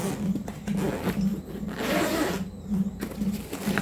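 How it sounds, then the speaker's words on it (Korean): Zipper on a bag's lower compartment being pulled open, a close, steady rasping run with brief pauses, alone without talk. "참고로 이 가방은 요 밑에 지퍼가 하나 더 있어요."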